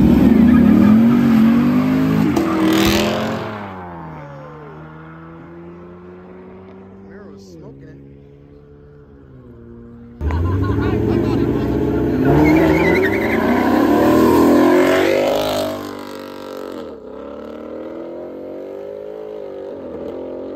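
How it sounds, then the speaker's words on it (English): A Chevrolet Camaro and a Ford Mustang street race, engines roaring up in two loud revving bursts with tire noise, fading between runs, with a voice talking over the first pass. "Looks like the Camaro right here is gonna run this Mustang."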